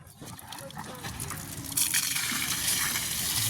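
Water gushing from a school borewell pipe, a broad steady rushing hiss that surges louder halfway through and keeps pouring, with a dog barking and faint voices in the background.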